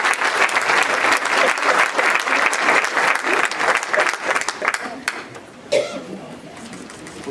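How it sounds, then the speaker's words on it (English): A church audience applauds Virginia Governor Ralph Northam with steady, full clapping for about five seconds before it trails off into a few scattered claps and a cough. "Let's give him a round of applause."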